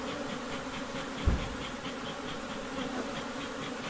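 Honeybees buzz densely and continuously around an opened long hive, a close, steady drone with faint pulsing, alongside a brief knock from the hive work and no talking.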